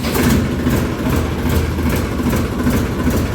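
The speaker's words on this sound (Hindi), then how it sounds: "तो देखो जब टाइट कितना इंजन डड़क डड़क बोल रहा है।" A tractor engine idles just after starting, a loud, close, steady low chugging with a rough rhythmic knock and no voices over it.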